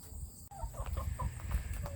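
Backyard chickens cluck in short, scattered bursts close by over a steady outdoor background, with scratching and rustling sounds filling the gaps.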